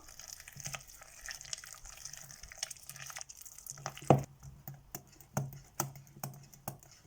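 Water splashes into a bowl as half a cup is poured into wheat flour appam batter and stirred, with scattered clicks and taps from the utensil and one louder knock midway.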